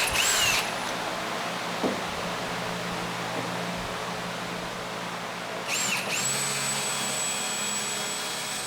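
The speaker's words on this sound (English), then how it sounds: "I need to drill a pretty big hole." Power drill cutting a large hole in a car body, a steady whirring drone lasting several seconds, bracketed by short bursts of higher-pitched whine at the start and near the end, with no talking.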